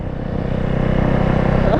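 A small 90 mini bike engine revving at an abandoned airport, a loud, close, buzzing drone with a rapid pulsing rhythm that climbs steadily.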